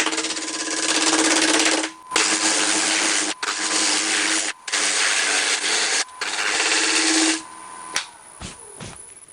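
A wood lathe spins a very large faceplate at about 1000 RPM, making a loud, steady broadband whir with a low hum, briefly cut by short gaps before it winds down into scattered clicks and quiet.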